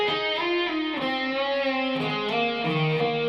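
An overdriven electric guitar plays a short lead lick from the solo of Airplay's "It Will Be Alright," with gliding bent notes in a smooth legato line, loud and close with no voices.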